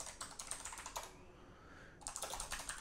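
Quick keystrokes on a computer keyboard while a command is entered in Windows PowerShell, a quiet, rapid run of clicks with a brief pause midway before typing resumes.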